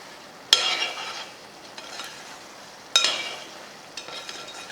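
Ground peanut and sesame powder being stirred into a simmering gravy, with two loud scraping strokes of a spoon against the pot and softer stirring between them over a faint sizzle; no voices.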